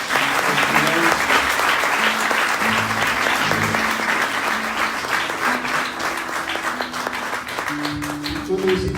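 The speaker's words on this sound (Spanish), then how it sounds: "Den un aplauso al Señor." A church congregation applauds during a worship service, with continuous, fairly loud clapping from a large group while a voice talks over it and organ-like sustained tones sound underneath.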